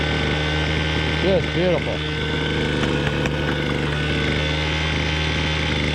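A Zapp drywasher for gold runs steadily with a droning small engine hum and a rattling mechanical churn, while someone speaks briefly over it outdoors.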